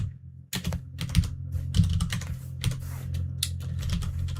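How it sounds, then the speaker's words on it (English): Rapid typing on a computer keyboard during programming, with close, crisp clicking keystrokes in uneven bursts and short pauses over a low steady background hum, no speech. "some people actually enjoy hearing keyboard sounds"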